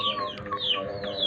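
A sick chicken with ngorok, a rattling respiratory cold, makes short, close, throaty clucking sounds over a brief moment.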